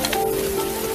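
Rain falls steadily on surfaces in a constant close patter, with a low sustained hum running beneath the downpour and no voices.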